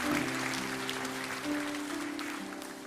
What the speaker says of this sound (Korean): 큰 박수로 우리 다음 세대 한번 격려하기 원합니다